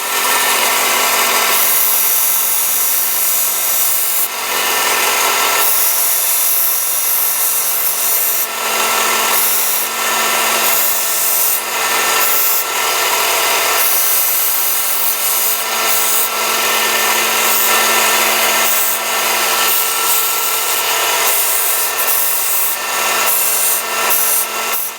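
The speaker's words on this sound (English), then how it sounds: "you're about to watch a sped up version of sanding" Continuous abrasive sanding on a metal wrench during restoration, a harsh rasping hiss with rhythmic strokes and short pauses, loud and close throughout.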